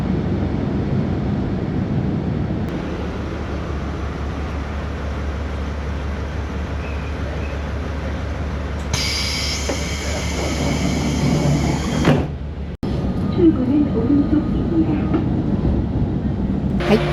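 A train rumbles into a small, quiet rural station in Chiba, with a steady low roar of wheels and engine. About nine seconds in, a brighter hiss of brakes or doors rises, then cuts off abruptly, and softer platform sounds follow.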